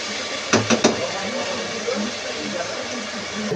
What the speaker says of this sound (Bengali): এই আদা রসুনের গন্ধ যাওয়া পর্যন্ত এটা ভালো করে আমি কষিয়ে নেব